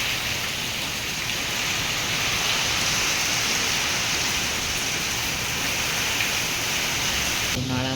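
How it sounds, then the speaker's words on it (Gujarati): Heavy summer rain pours down steadily and loudly as a continuous dense hiss, with a strong wind in the mix and a brief shift in the texture right at the end. "આમ તો આ ઉનાળામાં એટલો વરસાદ પડી ગયો."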